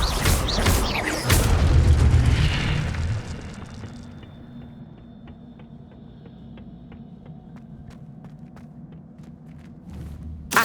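The Incendio fire spell in Hogwarts Legacy bursts out as a loud, roaring boom over the first few seconds, then fades into quieter ambient game sound with light ticking.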